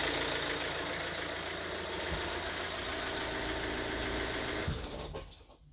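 Ford 2.0 TDCi diesel engine idling after drive belt replacement, a steady, close, even rumble with faint ticking that abruptly winds down as the engine is shut off near the end.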